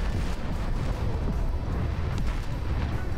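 Missiles and torpedoes firing from warships in War Thunder Mobile naval combat, a steady low rumbling barrage of booms and launches, dense and continuous at moderate loudness.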